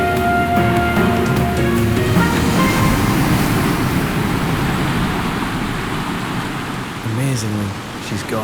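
Heavy, steady surf roars and churns throughout on the Shetland coast, with waves crashing continuously and a brief otter call rising near the end.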